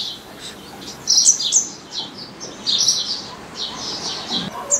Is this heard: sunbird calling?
yes